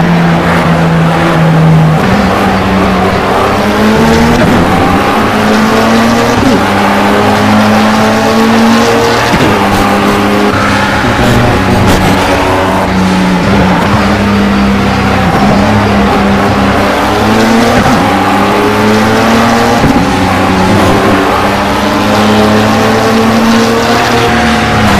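Race car lapping a circuit in the video game Project CARS, its engine loud and constant as it climbs and drops through gear shifts, with brief tire squeals in corners and no talking.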